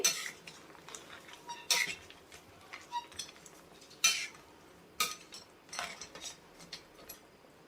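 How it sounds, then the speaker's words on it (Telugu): A spoon stirs Andhra-style crab curry with tamarind water in a metal pot, scraping and clinking against the sides in repeated strokes, close and fairly loud, with no voices. "చింతపండు పులుసు పోసిన తర్వాత కూడా మధ్య మధ్యలో ఇలా కలుపుతూ ఉండండి."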